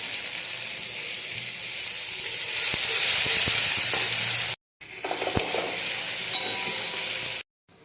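Tomatoes and onions hit hot oil in a pan, giving a loud, steady sizzle and hiss with occasional stirring clatters, broken by two brief silent gaps.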